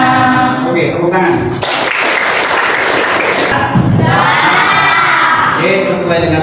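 Schoolchildren in a classroom clap and cheer together, loud rhythmic clapping with shouting voices bursting in after a teacher's prompt, the noisy crowd sound dominating with talk mixed in.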